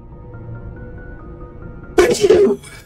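A single loud, sharp human sneeze bursts out near the end, following a stretch of quiet room tone.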